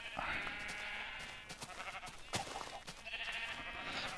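Noisy light blue sheep on a video game farm give two drawn-out bleats, one at the start and another near the end, with a sharp click between them and a little low background noise.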